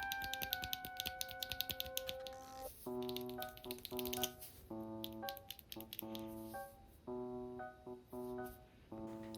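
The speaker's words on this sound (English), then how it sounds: "Included is also two spare switches that sound like this." Spare mechanical switches for a Yunzii RT75 keyboard click in quick, close, irregular bursts over a steady tonal backing.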